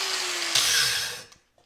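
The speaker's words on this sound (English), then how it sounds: "Grab the old angle grinder with an old worn out flat disc." An angle grinder fitted with an old, worn-out flat disc runs in a close, loud, steady whine with gritty grinding for about a second, then spins down and cuts off.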